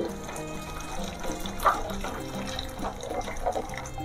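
Water is poured into a clay pot while dalma is being cooked, giving a continuous, moderately loud gurgling pour with a small splash partway through.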